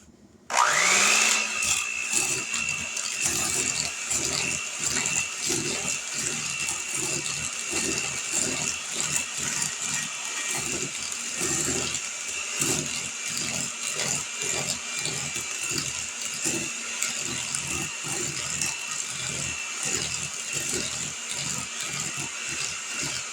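Electric mixer beating oatmeal raisin cookie dough made with applesauce and sweeteners, a steady loud whir with a rapid rattling pulse running alone for the whole stretch.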